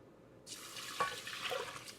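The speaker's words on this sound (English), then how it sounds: "And then we're going to put in water." Water splashes steadily into a metal saucepan of rice, a brief pour that starts abruptly and continues at a moderate level.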